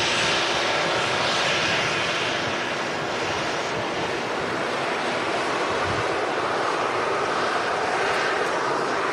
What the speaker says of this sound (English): The Ryanair in from Faro.